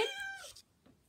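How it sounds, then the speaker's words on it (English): A single cat meow sounds up close at the very start, bright and falling away within half a second, leaving near silence with a couple of faint taps. "So right now he's doing a lot of sitting and meowing."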